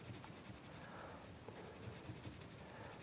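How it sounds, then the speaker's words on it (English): The side of a pencil shades broadly across paper while sketching a seaside scene with a lighthouse, a steady close scratchy rubbing that runs continuously with small strokes and no voices. "So still using the side of the pencil"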